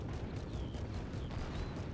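Repeated gunfire and cannon blasts from a tracked-tank battle in a video game, a steady dense barrage of booms and pops filling the whole short stretch, fairly loud and without talk.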